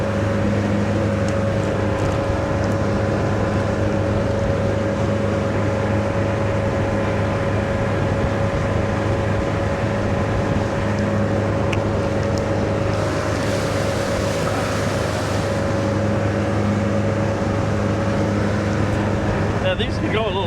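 A 1976 StarCraft boat with a Mercruiser 120hp engine and SEI Marine trim system runs steadily on the water, a constant loud engine drone with a hissing rush of wind and spray rising midway.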